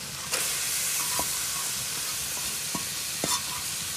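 Boondi (ghoongre) frying and being stirred in a karahi, a steady broadband sizzle with a few sharp scraping clinks of the spoon against the pan, close and fairly quiet, no voices.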